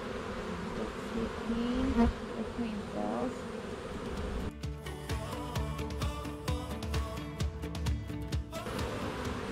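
Honeybees buzzing steadily at an open beehive, a continuous close drone with wavering pitch, joined midway by sharp clicks and knocks from handling the hive.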